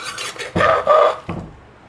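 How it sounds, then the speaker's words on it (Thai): Vegetables are scooped into a cooking pot for a Thai grilled-tilapia fish sauce, giving a few close scraping and rasping strokes of a utensil against the pot, with short pauses between them. "ยายแดงกับสิตักผักใส่หม้อไว้ก่อนเนาะค่ะ"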